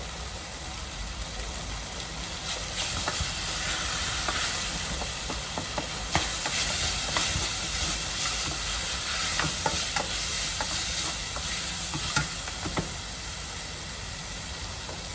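Ugali sizzles and crackles steadily in a pot at moderate volume as the water boils off, with scattered pops and a low background hum, no voices.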